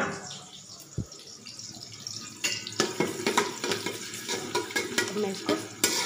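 Three chopped medium onions frying in hot oil for mutton biryani: a sharp thump, then a rising sizzle with a quick series of spatula scrapes and clacks against the pan. No one speaks.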